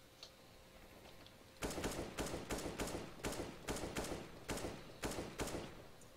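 Gunfire in Counter-Strike: Global Offensive comes as a quick series of sharp, evenly paced shots, about a dozen loud cracks in a steady rhythm after a quiet start, with no voices.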